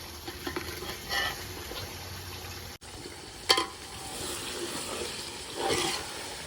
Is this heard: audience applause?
no